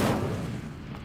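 The Incendio fire spell cast in the Hogwarts Legacy video game bursts out as a loud, rushing whoosh that starts strongly and slowly thins out over about a second.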